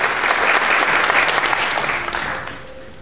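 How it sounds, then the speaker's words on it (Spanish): Audience applause at a chamber orchestra concert in Cusco, a dense, steady burst of clapping from a seated crowd that tapers off toward the end, with no talking over it. "Fuerte el aplauso para Janet Soto"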